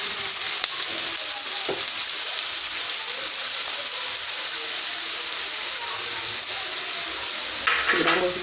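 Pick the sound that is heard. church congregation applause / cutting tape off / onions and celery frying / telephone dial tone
onions and celery frying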